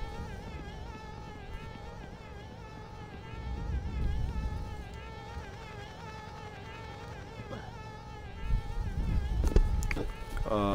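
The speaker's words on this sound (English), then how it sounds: "Bees." Buzzing bees in the video game Conker's Bad Fur Day, a steady insect drone running under layered game music for the whole stretch, with a few sharper effects near the end.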